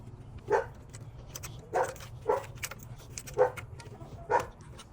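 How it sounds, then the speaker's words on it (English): A dog barks five times in separate sharp bursts spaced a second or so apart, fairly close and loud over a low steady hum, in a garage setting beside a BMW 335i. "Sorry for my dog barking."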